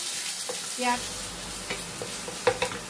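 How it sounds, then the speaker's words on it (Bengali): Onions fry in oil in a pan and are stirred now and then, a soft steady sizzle broken by a few scraping stirs and clinks close by. "দিয়ে ভালো করে একটু পেঁয়াজটাকে একটু কষে নিচ্ছি।"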